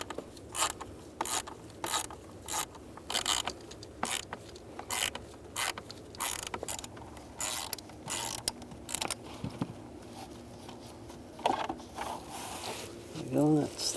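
Socket wrench ratcheting bolts loose from the blower motor of a 2002-2009 Chevy Trailblazer, a close series of short clicking bursts in a steady rhythm with brief pauses and light metallic rubbing between them.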